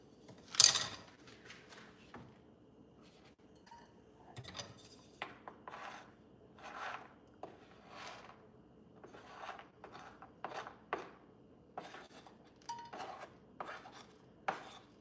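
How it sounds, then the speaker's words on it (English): Scraping bits of shell out of homemade candy with a utensil: scattered, quiet scratches and clinks against a dish in an irregular rhythm, with a sharper clatter near the start. "I don't know if that's like some of the shell that may have gotten in there, but that's what I'm scraping out"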